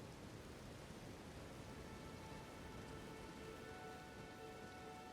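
Steady, dense rainfall in the video game Elden Ring, a constant close hiss of drops on surfaces with no pauses and no voices.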